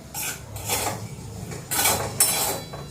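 A metal spoon scrapes and stirs semolina in a steel wok in repeated rhythmic strokes, close up, with no talking.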